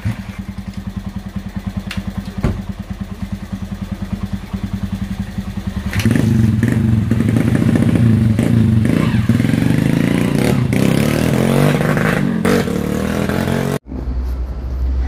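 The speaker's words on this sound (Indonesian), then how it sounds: "itu knalpot blong berulang kali brang brong" Motorcycle fitted with a loud open aftermarket exhaust, revved repeatedly: steady idling putter gives way to loud, sustained throttle blips and roaring revs that cut off sharply near the end, close and without speech.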